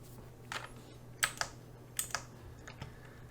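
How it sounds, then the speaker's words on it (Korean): Several soft, separate clicks and taps on a computer keyboard while setting up CAD software, spaced irregularly, with Enter pressed among them, close and quiet with no talking. "이 상태에서 엔터를 쳐주시면 돼요"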